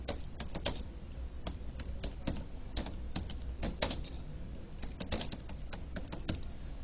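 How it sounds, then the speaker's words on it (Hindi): Fingers typing notes on a computer keyboard, a steady stream of close, crisp key clicks with uneven rhythm and occasional louder taps, no voices. "यहाँ कहीं भी क्लिक करेंगे तो इसमें नोट्स आप टाइप कर सकते हैं।"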